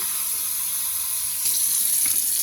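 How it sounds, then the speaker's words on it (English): Tap water runs steadily into a plastic meal prep container, a continuous close hissing stream with a slight rise in pitch partway through as it fills. "I'm going to fill this up with some water. So I'm going to put some water in here"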